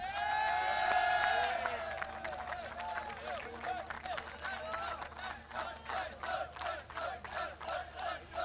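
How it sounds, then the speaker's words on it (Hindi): An audience at a field hockey award ceremony in Pakistan applauds steadily, with cheering voices over an announcer's rising call at the start. The clapping continues in waves throughout. "आप लोगों की भरपूर तालियों में"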